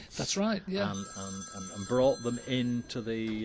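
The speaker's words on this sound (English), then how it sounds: "That's a phone ringing." A telephone rings faintly with thin, steady high tones beneath close conversational speech that dominates throughout.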